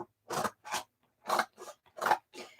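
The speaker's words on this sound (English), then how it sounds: "take my scissors and cut out the separate pieces" Scissors snipping out separate vinyl pieces reading Happy Father's Day, six crisp, close cuts in an uneven rhythm with short silent pauses between them.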